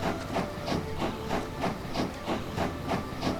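Rhythmic chuffing of a video game steam train repeats steadily, with soft hissing puffs at an even pace, moderately quiet and without voices.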